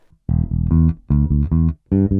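Electric guitar plays two slow bars of a funky riff in four short, loud bursts of staccato notes separated by brief gaps, alone with no talking.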